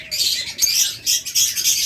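A pair of red-eyed lutino Fischer's lovebirds squawks close by, giving a quick run of shrill, piercing calls in short bursts over about two seconds.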